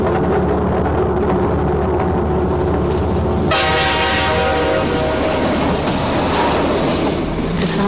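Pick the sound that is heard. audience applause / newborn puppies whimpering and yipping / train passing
train passing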